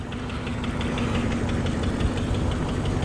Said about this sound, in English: A lovely V8 Burble.